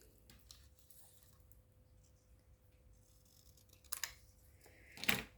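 Paper snipped with scissors in a quiet room: two short, sharp cuts near the end, the second louder, after several seconds of near silence.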